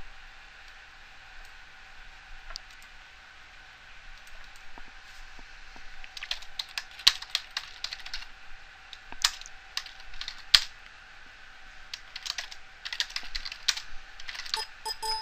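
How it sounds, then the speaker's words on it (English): Someone types on a computer keyboard, quiet scattered key taps at first, then a denser stretch of quick irregular clicks close up, with no speech. "I don't feel like typing the whole final comment"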